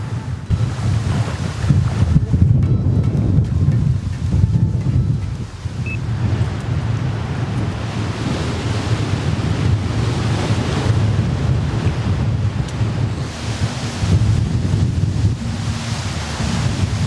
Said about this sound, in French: aujourd'hui il y a beaucoup de vent